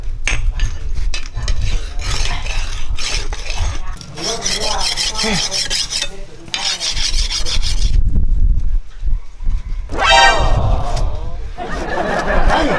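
Knife blade scraped back and forth over a whetstone in long rasping strokes, loud and close, with people talking at points.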